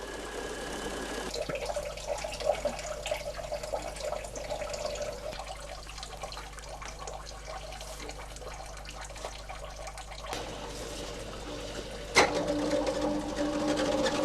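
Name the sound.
centrifuge spinning washed raw wool in an old wool mill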